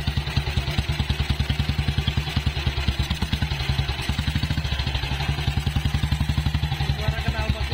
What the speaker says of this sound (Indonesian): Jadi ini untuk suara mesinnya.